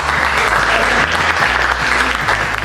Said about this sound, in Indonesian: kita kasih aplaus dulu ya